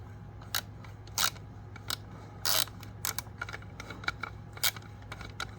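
Someone tightens bolts on a Husqvarna by hand, making sharp metallic clicks and ratchet-like snaps at irregular intervals over a low, steady hum.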